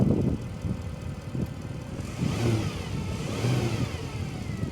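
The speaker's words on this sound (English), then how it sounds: "And as you can tell, rev it up there, Amy." Mercedes C63 W204 V8 engine revving, a deep broad roar swelling up and easing back twice at moderate distance, with a rushing outdoor background and no talk.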